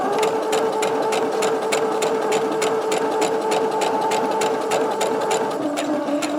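A sewing machine runs steadily, stitching fabric for a lunch bag, its needle ticking in a fast even rhythm over a continuous motor hum, close and loud with no talk.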